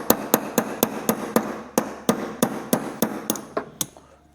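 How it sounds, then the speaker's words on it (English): A brass hammer lightly taps a float pin out of a motorcycle carburetor in a rapid, even run of about fourteen sharp metallic knocks, close and clear, slowing slightly toward the end with no talking. "I just use a brass hammer, and then just lightly"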